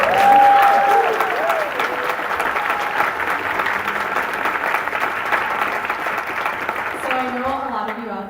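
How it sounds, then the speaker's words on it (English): Audience applause fills a summer symphony orchestra's final concert hall, a steady wash of many hands clapping that holds at an even level throughout, with a brief whistle-like tone near the start and voices murmuring beneath as it tapers at the end. "Can we have a little round of applause for our people before we go?"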